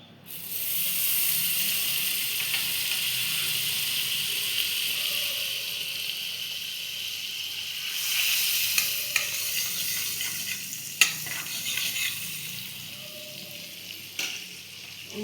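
Butter sizzles steadily in a hot wok, a close, continuous frying hiss that holds throughout, with a few faint clicks and scrapes of utensils near the end.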